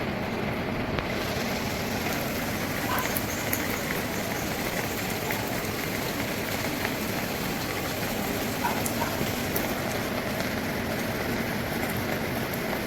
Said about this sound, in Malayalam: മഴ കണ്ടിരിക്കുക ഒരു രസമല്ലേ.